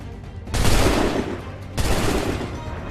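Musket volleys crack out in the Assassin's Creed 3 video game: two loud, close fusillades, each a dense burst of overlapping shots that trails off into crackling echo.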